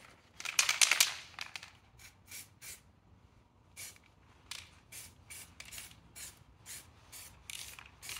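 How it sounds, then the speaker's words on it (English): Short aerosol bursts of zinc anti-corrosive spray on a headlamp fitting: one longer hiss at the start, then a run of brief puffs spaced through the rest, fairly close and moderate in level with no talking. "Just going to hit it with a quick spritz of zinc spray."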